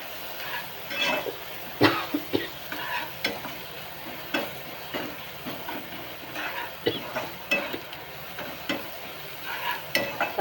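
Onion and tomato frying in a pan for a chapati chivda, with a continuous low sizzle broken by repeated close spoon scrapes and clinks as the mixture is stirred, no speech.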